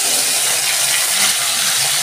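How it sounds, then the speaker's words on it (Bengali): Fish frying in hot white oil in an iron wok, a loud, steady broadband hiss of sizzling that runs without a break for about two seconds, with no voices. "সাদা তেল দিয়ে আমি মাছটা ভেজে নিচ্ছি।"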